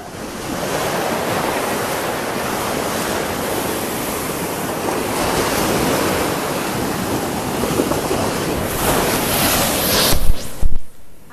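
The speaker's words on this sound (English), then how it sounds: "Here comes a big wave." Large ocean waves surging and crashing on the Oregon Coast, a loud continuous roar of surf close by that swells toward the end.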